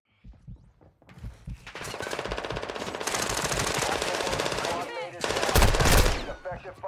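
Sustained automatic gunfire in a Call of Duty DMZ match, long dense rattling bursts with a heavier blast near the end, loud and continuous, with voices faintly underneath at the start.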